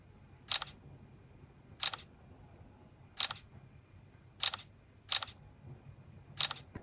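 Six crisp Samsung phone camera shutter clicks, evenly spaced about a second apart, sharp and close against a quiet background.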